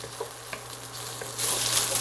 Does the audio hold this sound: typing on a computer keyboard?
no